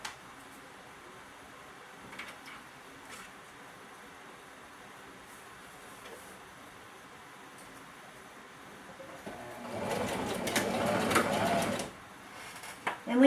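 A sewing machine stitches curved bodice pieces, starting with a quiet stretch and light handling noises before a loud, close, continuous whirring run of about two seconds near the end.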